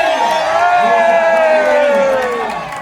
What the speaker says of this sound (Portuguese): Uma grande salva de palmas para o Guilherme!